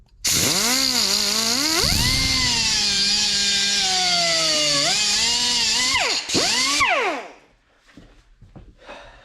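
An angle grinder works metal pieces during a golf cart repair, giving a loud, close, high whine that rises and dips in pitch as it bears on the metal, then spins down and stops into quieter shop noise.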